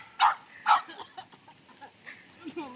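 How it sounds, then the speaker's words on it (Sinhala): A dog gives two sharp, loud barks close together near the start, then fainter yelps and murmuring voices follow in the background. "අර අරයටත් බුරනවා."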